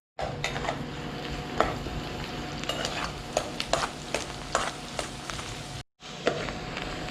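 Onions salted and sautéed in a pan for a Vendakkai meen kuzhambu sizzle in a broad, rain-like hiss, punctuated by sharp spatula scrapes and clatter, with a brief gap near the end.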